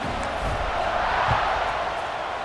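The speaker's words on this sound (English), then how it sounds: "this crowd now ready to get behind them" Stadium crowd in the video game EA Sports College Football 26, a constant loud roar of cheering fans before a kickoff, with a few faint thumps within the steady wash of voices.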